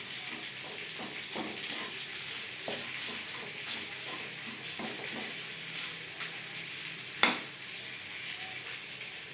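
Bay leaf pieces and spices sizzle in a wok over a low flame, a steady soft frying hiss with light stirring scrapes and one sharp tap near the end, no voices.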